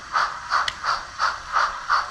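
Model steam locomotives running, with a regular chuffing beat of about six evenly spaced puffs and a brief metallic tick partway through.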